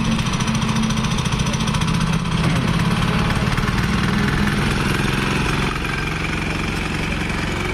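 A 7 HP petrol chain cultivator engine runs steadily for several seconds, a loud close mechanical drone with a rapid rattling pulse and a slight surge midway, with no talking.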